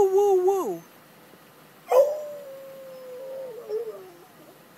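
A dog howls in a long wavering woo-woo, with a person's voice imitating the howl just before it, close and fairly clear in a quiet room.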